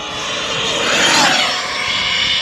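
An Arrma Typhon 6S RC car on a carbon AERO chassis from Power Hobby, running XLX2 8S and TP motor gear at half throttle, passes with a loud, steady high-pitched motor whine that swells and eases across the pass.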